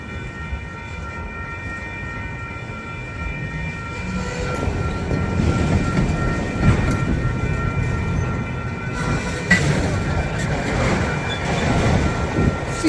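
A CSX freight train rolls past a trackside spot in St Paul with a continuous heavy rumble and steady rail noise. It grows louder midway and stays loud and close, with no talk.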